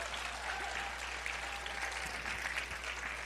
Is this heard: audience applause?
yes